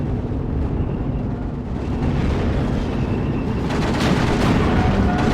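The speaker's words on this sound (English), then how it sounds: "Now there's the mortars that are gonna start to do some damage on these machine guns." Heavy mortar fire pounds enemy machine-gun positions in a strategy war game, a dense, continuous barrage of booming explosions and rumbling blasts that stays loud throughout and swells slightly toward the end.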